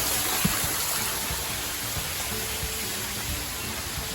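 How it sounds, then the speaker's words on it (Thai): Steady, rushing water noise, a continuous broadband roar like a waterfall, with no voices. "มีน้ำตกอีกแล้ว"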